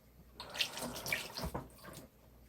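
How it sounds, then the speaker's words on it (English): Hands are rinsed under a running kitchen tap, water splashing and spattering in short uneven bursts, close and fairly quiet. "rinse my hands again"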